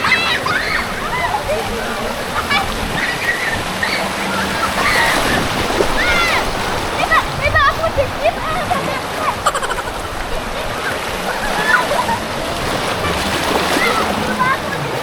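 A river current rushes and splashes around people tubing downstream at New Rivermoon in Klaten, with constant loud sloshing surf and voices talking over the water.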